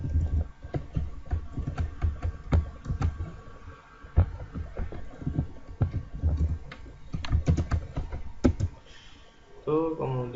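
Computer keyboard typing while Java code is written, a steady run of fast, close clicks and clacks throughout, with a brief different tonal sound near the end.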